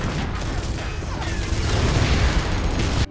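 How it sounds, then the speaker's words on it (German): A rapid barrage of overlapping booms and blasts with crackling debris as units die in the strategy game Empire Earth 3, dense and loud throughout before cutting off abruptly. "Und wenn sie sterben, dann explodieren sie auch gerne mal."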